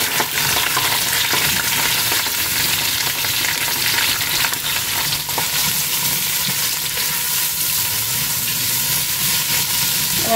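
Two chopped onions and green chillies fry in hot oil in a kadai, a loud, dense, continuous sizzle that stays steady and close for the whole stretch, with no talking.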